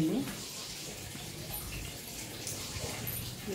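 Water runs from a tap into a container in a home, giving a steady hissing splash throughout at moderate distance, with faint background sounds.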